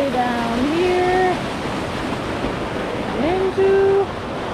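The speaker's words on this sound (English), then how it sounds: "Water comes all the way down here" Water runs steadily down worn rock into a blue pool outdoors, a constant rushing wash with a voice speaking and humming over it through much of the stretch.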